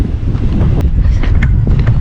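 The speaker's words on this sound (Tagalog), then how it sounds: "Lakas ang hangin." Strong wind on a fishing outing buffets the microphone in a continuous, loud low roar with rapid gusty fluctuations and no pauses.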